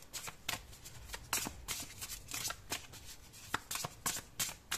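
Tarot cards are shuffled by hand in a series of quick riffling and slapping bursts, close and crisp, with irregular pauses between the flurries.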